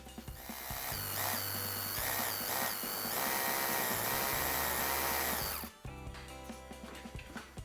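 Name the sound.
power drill drilling into wall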